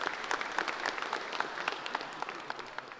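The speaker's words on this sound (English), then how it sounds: "Please, round of applause for Vercel." Audience at an evening JavaScript community meetup applauding a sponsor, a short burst of steady hand clapping from a modest crowd that tapers slightly toward the end.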